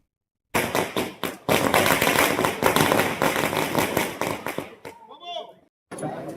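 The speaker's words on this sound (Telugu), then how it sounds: "వేద పాఠశాలలో పిల్లలతో టపాకాయలు కాల్చి సంబరాలు నిర్వహించారు" Firecrackers bursting for Diwali celebrations at a Vedic school with children: a dense, loud run of rapid crackling pops and bangs, a short pause, then a trailing hiss and crackle before another burst starts.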